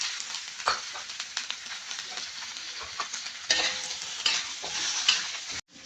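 Roasted pork, mushroom and preserved tofu are stir-fried in a hot pan for pork pata, with steady loud sizzling and repeated scraping stirs that ends abruptly, and no talking.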